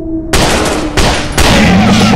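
Suppressive gunfire in a 3D commando shooting game set in a city level: three loud, close bursts of automatic fire, each starting abruptly and running straight into the next.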